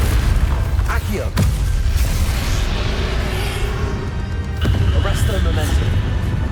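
A Bombarda blast spell explodes in Hogwarts Legacy during the fight with Ranrock, a loud booming burst over rumbling battle noise and a spoken voice.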